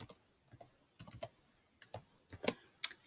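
Code is typed on a computer keyboard in short, scattered bursts of crisp key clicks, close and fairly quiet, with brief silent gaps between the groups of keystrokes.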